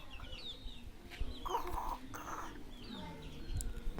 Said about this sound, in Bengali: বড় মুরগি তো কি শব্দ করে?